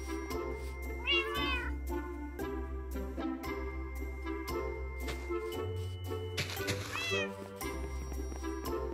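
A Minecraft cat meows twice, short and fairly clear, over continuous game music and ambient game sounds.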